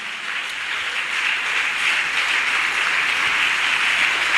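A church congregation breaks into loud, steady applause that fills the room and swells slightly over four seconds, with no voices rising above the clapping.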